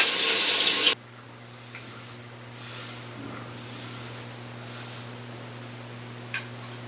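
Safety razor rinsed under a running sink tap, with a loud burst of water for about a second, then quiet room hum with faint soft splashes and a small clink near the end.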